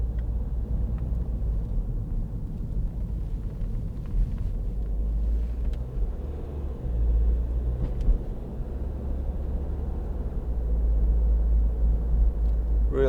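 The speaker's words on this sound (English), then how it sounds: "Really nice smooth gear changes from the automatic box." A 2012 MINI Countryman Cooper SD with an automatic gearbox is driven, giving a steady low engine and road rumble from inside the cabin. The drone rises and eases slightly as the gears change smoothly. No one speaks.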